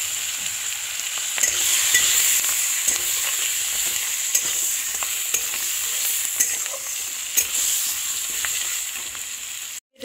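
Green chillies and cut potatoes frying in oil with cumin, a continuous bright sizzle close by with occasional scrapes and taps of stirring, ending in a brief break.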